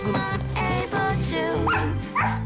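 A man imitates a dog with a run of loud yapping barks and whimpering yips, close and alone for a couple of seconds.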